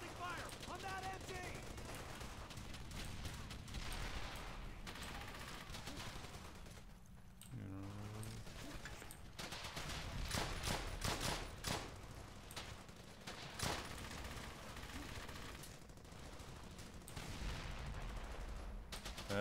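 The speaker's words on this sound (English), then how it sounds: "Suppressing fire on that MG." Machine gun fire in the video game Brothers in Arms: Hell's Highway rattles in repeated suppressing bursts, fairly quiet overall, mixed with other battle noise and voices talking.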